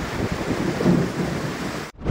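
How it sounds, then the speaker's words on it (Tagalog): A thunderstorm brings heavy rain and wind gusts, heard as a continuous dense roar of rain and wind with a low rumble swelling midway, then cut off abruptly near the end. "Sinabayan niya na malakas na buhos ng ulan at bugso ng hangin."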